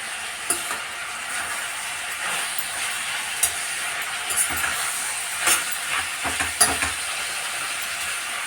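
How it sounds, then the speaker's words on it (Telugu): Chopped tomatoes fry in a pan with softened vegetables while a spoon stirs them, producing a close, continuous sizzle broken by irregular scraping and clinking strokes, without any speech. "ఇప్పుడు టమాటా కూడా కొంచెం మెత్తబడేంత వరకు అయితే మనం కుక్ చేసుకోవాలి"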